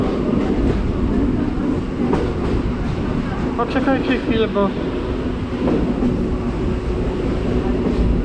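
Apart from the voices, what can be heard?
train ride to Zakopane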